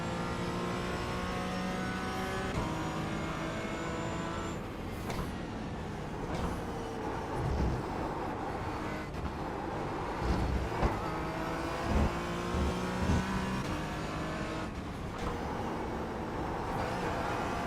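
A GT4 race car engine in a VR racing game, revving steadily with rising and falling pitch through gear changes, loud and continuous throughout with no talk.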